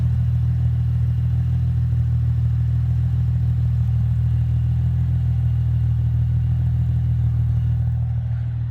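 A 2005 Mercedes C240 engine runs with an aftermarket eBay muffler exhaust, giving a steady, loud, deep rumbling drone that holds unchanged throughout, with no talking.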